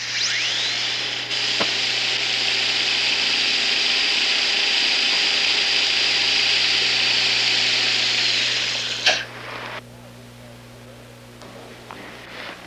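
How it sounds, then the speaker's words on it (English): Small round dental burr grinding a nodule off a gold casting, a high steady whine held for about nine seconds, close and loud, then cutting off and leaving a faint low hum. "we're going to use a small round burr to eliminate the nodule, and the nodule only"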